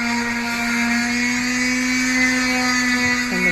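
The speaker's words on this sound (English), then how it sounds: "And the sanding begins on the epoxied boards" A power sander works on epoxied boards in a boat's engine room, running continuously with a steady high-pitched whine and buzzing hum, loud and close, shifting slightly near the end.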